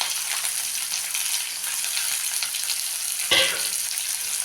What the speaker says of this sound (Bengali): এখন আমি এগুলো তেলের মধ্যে দিয়ে দেব। দিলাম পেঁয়াজ, দিলাম রসুন, দিলাম আদা, দিলাম কাঁচা লঙ্কা